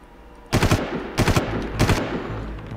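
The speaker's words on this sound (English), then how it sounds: "there's a guy behind a machine gun" An enemy machine gun fires in Far Cry 1, aboard a ship, in three short, loud bursts of rapid shots separated by brief pauses.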